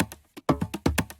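An unprocessed percussion loop sample from a sample pack plays briefly, a short run of crisp hits in an uneven rhythm with a full low end, fairly quiet and alone.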